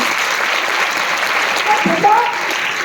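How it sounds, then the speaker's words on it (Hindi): Audience applause for a girl at an educational workshop event, a steady broad patter of clapping throughout, with brief voice-like sounds near the end. "तालियां बजाओ बच्ची के लिए।"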